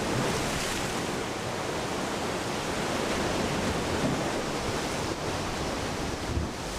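Ocean surf breaking on a Galápagos shoreline, a steady, loud wash of waves with a constant roar and no voices.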